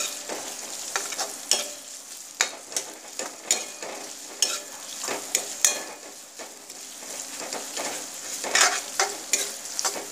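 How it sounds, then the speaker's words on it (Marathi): Onion frying in hot oil in a wok (kadhai) while being stirred, a steady close sizzle broken by repeated sharp scraping clicks of the spoon against the pan, with no talking. "तर इकडे कढईमध्ये तेल घेतलंय। तर आता पहिल्यांदा कांदा भाजून घेऊया।"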